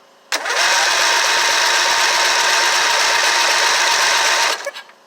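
A Craftsman LT1000 lawn tractor engine cranks with the choke on, a loud, steady mechanical whirring of the starter that runs for about four seconds without firing, then cuts off.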